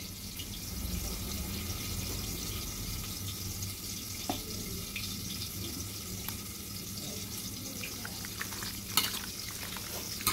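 Onion paste fries and is stirred in a pan for a country chicken curry, giving a quiet, steady sizzle with occasional clicks and scrapes of a utensil, heard alone without talk.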